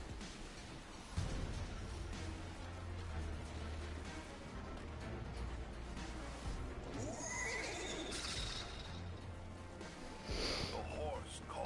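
A horse neighs and whinnies in the video game Destiny 2, a loud call that stands out over a steady game soundscape with low rumbling, along with snorts and sniffs, while someone talks throughout.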